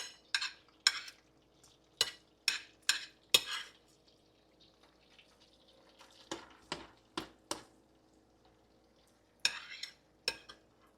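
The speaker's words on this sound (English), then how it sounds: "I'm going to saute a little bit more garlic" Garlic sautéed in a pan for Jamaican steamed fish, heard as a series of sharp, close metal scrapes and taps of a utensil against the pan in irregular bursts over a faint sizzle.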